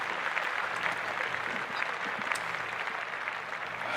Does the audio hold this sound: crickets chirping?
no